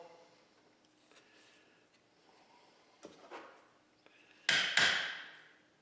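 A hammer strikes a chisel on a Model T Ford transmission: quiet handling and light metallic taps, then two sharp, loud, close smacks in quick succession near the end, each ringing briefly before fading.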